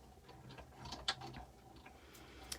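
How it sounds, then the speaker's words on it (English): A die-cutting and embossing machine cranking card through for a Christmas gatefold card, a steady geared ratcheting rumble with small clicks, close-up and without talk. "I'm just going to run it through my machine a couple of times just to see if I can get that to flatten out a little bit"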